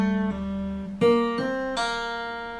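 Plucked guitar notes ring out clearly, one sustained tone bending upward two semitones in pitch, followed by fresh picks that ring and slowly fade.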